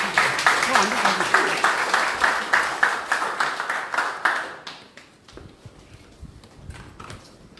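Audience clapping at a Bareun Future Party leadership candidates' speech event, a dense patter of hands that fades out after about five seconds, leaving a quieter room.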